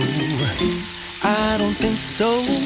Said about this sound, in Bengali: প্যানের মধ্যে দেখো তেল দিয়ে দিচ্ছি আর পমফ্রেটটাকে আমি হালকা করে করে ভেজে নেবো